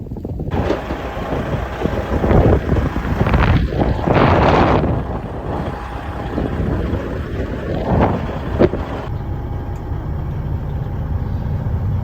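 Wind gusts across an open farm field ringed with wire fencing, a steady rumbling buffet against the microphone with swelling gusts and no voices.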